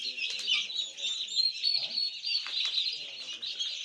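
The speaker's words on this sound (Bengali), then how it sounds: "আমরা দেখতেছি টার্কিগুলো," Young turkeys, about two to four weeks old, cluck and chirp together in a farm rearing room, making a busy, high-pitched chatter that runs throughout at moderate volume.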